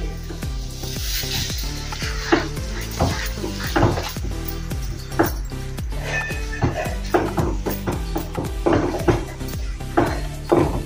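A spoon scrapes and clinks repeatedly against a pan while a rawa laddu mixture is stirred, with soft sizzling and irregular knocks throughout, close and moderately loud.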